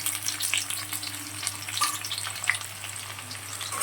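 Potatoes with chopped onion and garlic frying in a pan, giving a steady, close sizzle with a faint low hum underneath and scattered light crackles throughout, no voices.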